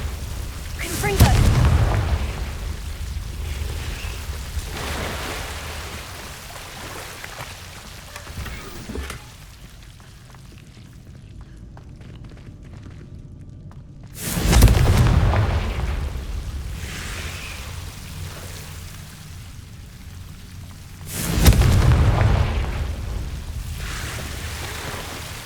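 Fiery Confringo spell blasts in the Hogwarts Legacy video game land as three heavy booming explosions spaced several seconds apart, each followed by a long crackling, rain-like rumble under a constant ambient wash.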